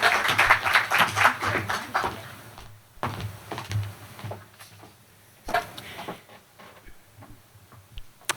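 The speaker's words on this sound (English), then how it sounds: "Let's give her a round of applause of welcome." Applause from a lecture audience welcoming a student speaker, a burst of clapping that thins out into scattered claps and small noises.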